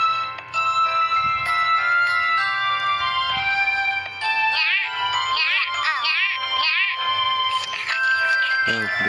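A cartoonish cat meows repeatedly in bright, wavering calls over a cheerful tinkling musical background, from a Baby Bus children's cartoon.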